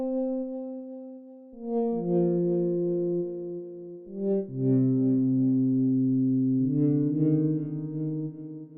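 An Elektron Digitone synthesizer plays sustained, slow-attack chords through reverb and delay, layered tones shifting between a few held harmonies with smooth echoing tails and no talking.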